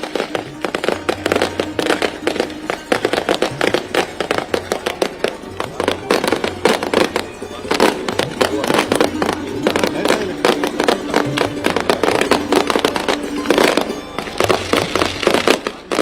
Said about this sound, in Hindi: जोरदार आतिशबाजी साफ तौर पर देखने को मिल रही है